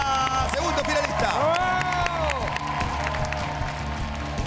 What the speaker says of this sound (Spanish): El aplauso para Rata, segundo finalista.